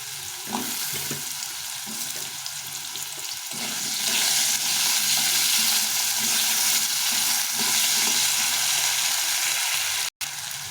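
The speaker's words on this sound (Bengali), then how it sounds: "আলুগুলোকে একটু ভালো করে ভেজে নিতে হবে" Potatoes frying in oil with bay leaves in a pan, a loud continuous sizzle with occasional stirring scrapes, swelling louder midway and breaking off briefly near the end.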